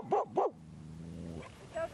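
Two sharp barks from a nearby dog in Memorial Park, downtown Chula Vista, ring out in quick succession, followed by a low whine and soft yips.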